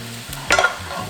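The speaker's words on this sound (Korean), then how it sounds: "마늘 넣고는 이 팬이 달아있기 때문에 다 타요" Garlic sizzles and fries in a hot pan while being stirred, giving a steady close crackle with a brief louder burst of scraping midway.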